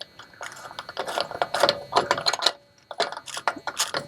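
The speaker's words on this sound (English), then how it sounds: "We're going to tighten that down, and it's going to ratchet, so it's easy to tighten." A ratchet wrench tightens a wheel bearing nut on a Ford Bronco, giving rapid close clicking bursts in uneven strokes with short pauses between.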